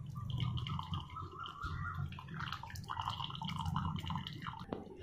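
Whey drains and drips from squeezed chhena cheese being pressed through a cloth for banana chhena poda, a soft, continuous trickle with scattered drips, close and faint.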